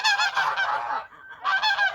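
Large domestic geese honk loudly and close by near a feeding trough, a run of harsh overlapping calls that breaks off briefly and then resumes.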